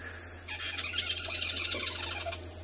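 A squirrel gives a high-pitched alarm call warning of an aerial predator, a sustained squawking, chattering burst lasting about two seconds, moderately close, over a faint steady low hum.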